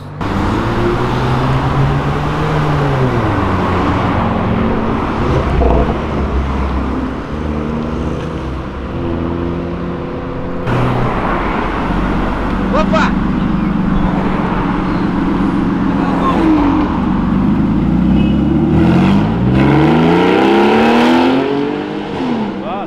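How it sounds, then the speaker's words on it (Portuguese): A 600 hp turbocharged Honda Civic Si engine revs hard and climbs through repeated gear shifts, its tone dropping and rising again, loud and close for over twenty seconds with no talking. "ele só entra, troca de marcha, aquele ronquinho da hora e tá de boa"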